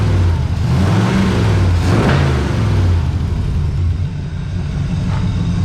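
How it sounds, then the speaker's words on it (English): A 1982 Camaro V8 idling and revving through homemade side pipes, a loud, close, deep burbling rumble with lumpy pulses that swell and settle, running alone without talk. "Those homemade side pipes aren't sounding too bad, are they?"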